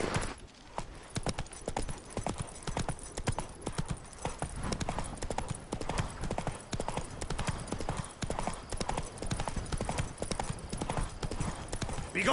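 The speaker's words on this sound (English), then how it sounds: "Come on, Roach" Horse hooves gallop in The Witcher 3, a fast continuous clip-clop rhythm held steady throughout, close and prominent with a brief faint whinny-like sound and no clear talk over it.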